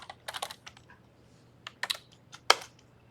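Typing code on a computer keyboard, close and quiet: short irregular bursts of key clicks, a pause after the opening flurry, then a few sharper taps near the end, with no talking.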